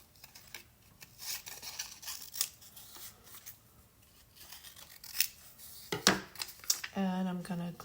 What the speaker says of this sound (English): I'm just going to cut some little pieces here